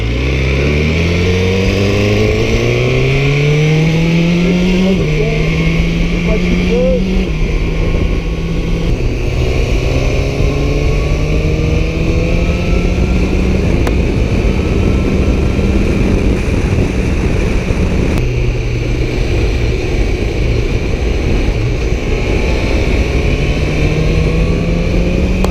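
A 2017 BMW S1000R motorcycle is ridden hard, its engine loud and continuous, rising through the gears with repeated climbing revs and shifts, heard close up with strong wind rush throughout.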